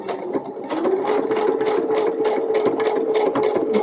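A domestic sewing machine stitches fabric for a child's Halloween costume, starting after a brief pause and then running in a fast, steady whirring rhythm, close and clear with no talk over it.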